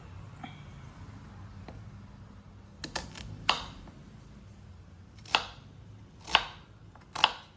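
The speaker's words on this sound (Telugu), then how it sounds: "తర్వాత ఆనియన్స్ని కూడా ఇలా రఫ్గా చాప్ చేసుకోవాలి" Onions roughly chopped with a knife on a cutting board while making cabbage dal: a few soft early cuts, then about half a dozen sharp, close knife strikes spaced about a second apart, with no talk.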